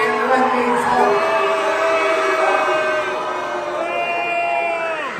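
A large beach event crowd shouts, whoops and jeers continuously at full volume, a dense wash of overlapping voices with no pauses throughout.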